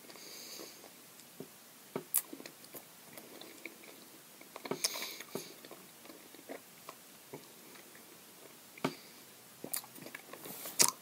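Close, quiet chewing and biting on Toxic Waste sour candies, with scattered soft crunches and mouth noises and occasional sniffs over a near-silent background.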